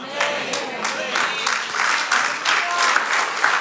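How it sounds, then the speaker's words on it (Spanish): Church congregation breaks into applause, a steady wash of many hands clapping throughout, fairly close and full, with rhythmic surges and no voices clearly standing out. "Si le va a dar el aplauso, déselo con ánimo"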